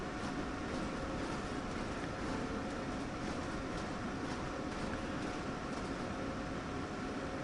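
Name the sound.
electric train running in Train Sim World 3 video game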